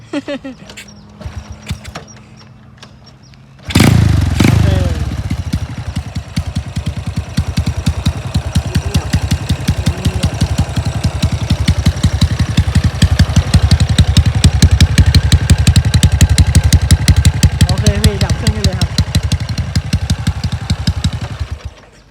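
A Honda Wave 125 motorcycle engine starts abruptly and runs close by, idling with a rapid popping putter and rising into revs; voices talk faintly beforehand.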